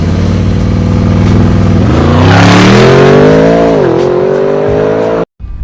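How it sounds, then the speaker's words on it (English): Twin-turbo 4-liter V8 engine of a car, loud and close, holding a deep idle before climbing through a strong rising rev and settling, then cutting off abruptly near the end. "This is a twin turbo 4-liter V8. It's gonna make 542 horsepower and it sounds incredible."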